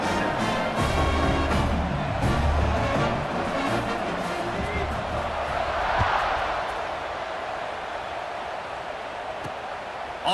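A college football stadium crowd at a Nevada at BYU game roars steadily before kickoff, a broad, sustained wash of cheering that swells slightly midway and holds throughout.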